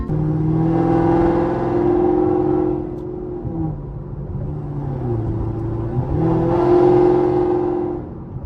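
A Chevrolet Camaro ZL1 engine with Corsa resonators revs up twice, rising into a loud droning roar with an exhaust clap, easing off between bursts with a lower rumble.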